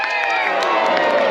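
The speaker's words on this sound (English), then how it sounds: "Cheer them on." A loud, continuous roar of crowd cheering and shouting fills the stands at a medieval joust, with no single voice standing out.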